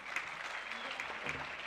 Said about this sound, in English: Yes, a huge round of applause.